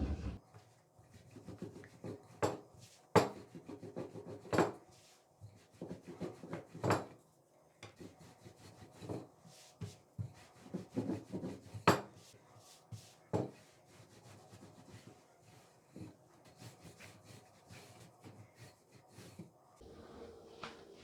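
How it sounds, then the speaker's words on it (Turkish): Rolling pin pressing and rolling floured dough on a board for Kayseri yağlaması, soft rubbing strokes and light knocks in an irregular rhythm, faint and close, no talking. "Ben merdane ile açacağım."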